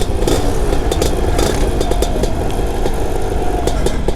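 A cheap TS1 scooter engine runs steadily just after its first start, a loud, continuous buzzy two-stroke drone with small fluctuations in pitch and no talk over it.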